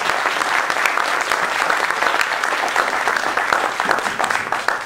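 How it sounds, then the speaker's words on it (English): Audience at a live music and dance showcase breaks into a full, dense round of applause, loud and continuous from start to finish with a crowd murmur beneath. "give them all a round of applause, please"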